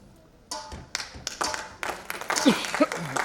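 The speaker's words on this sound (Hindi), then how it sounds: "जोरदार तालियों के साथ ये इनॉग्रेशन बनता है" Scattered hand claps and taps at an inauguration ceremony start after a quiet moment and build into loose, uneven applause, with voices talking alongside.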